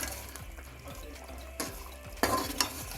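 Masala with tomatoes sizzles and fries in a pot for Lahori murgh cholay, while a spoon scrapes and stirs in a rhythmic pattern with a few sharper knocks against the pot.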